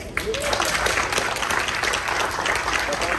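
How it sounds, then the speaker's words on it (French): Steady applause from a crowd, dense clapping that holds at an even level throughout. "On applaudit"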